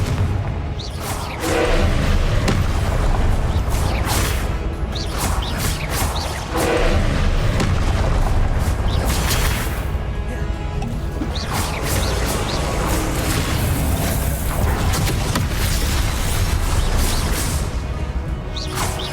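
Repeated Confringo blasting spells burst and crash in Hogwarts Legacy amid a dense, continuous roar of combat, with whooshes and heavy booms layered throughout.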